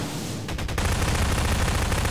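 Sustained rapid gunfire in Garry's Mod co-op play, a dense continuous burst that grows louder after a brief dip and runs steadily to the end, with no talking.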